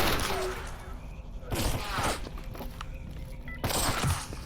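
Video game gunfire, sharp bursts of shots in quick succession from a firefight in grass, loud and close, with a player's voice talking over them.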